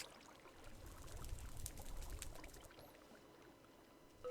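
Dirty water bottles being filled in the video game Minecraft, a soft pouring and trickling swell that rises and fades, quiet and brief, with no talking.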